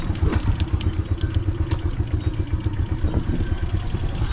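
A motorcycle engine running close by at a steady, lumpy idle, its rhythmic low pulsing and mechanical clatter carrying on without pause.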